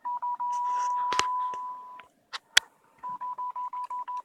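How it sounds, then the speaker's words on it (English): An SI5351 VHF QRSS beacon keys Morse code as clear single-pitch beeps: a long steady tone first, then a quick run of short, evenly keyed pulses, with a few sharp clicks in between. "It's set to send Morse fairly fast"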